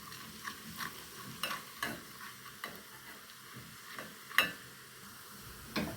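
Bay leaves and cardamom toast dry in a pan for a grape leaf dish: faint scattered crackles and light clicks from the spices and stirring, sparse and quiet with no talk.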